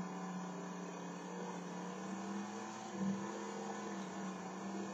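Dirt track race car engine in a racing video game, a faint steady engine hum that holds a constant pitch with a small bump near the end, alone and quiet.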